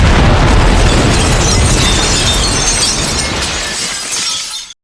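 A grenade blast inside a building bursts out loud and close, followed by a long, crashing spray of shattering glass that fades after a few seconds.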